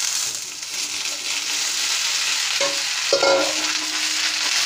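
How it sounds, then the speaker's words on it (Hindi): Okra and onions fry in a pan while being stirred for a bhindi sabzi, giving a loud, close, steady sizzle with occasional scraping strokes of the spoon. "भिंडी डालने के बाद हम इसको वेल मिक्स करेंगे अच्छे से।"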